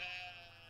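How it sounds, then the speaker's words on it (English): A sheep bleats in the farming game Stardew Valley, one short, steady, fairly loud bleat with a buzzy, nasal tone and no talk over it. "Oh, there's one sheep that's ready to shear."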